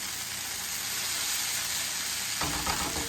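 Sausage and hash browns crackle and sizzle steadily in a skillet at close range, with a brief scrape of turning near the end and no talk.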